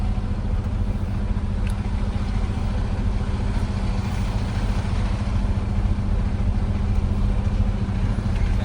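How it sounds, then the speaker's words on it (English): Engine of a class B or C straight truck running steadily while reversing during a pre-trip brake test, a continuous mid-pitched drone with no breaks, fairly close and loud. "So now I'm just gonna go reverse, go to my original position"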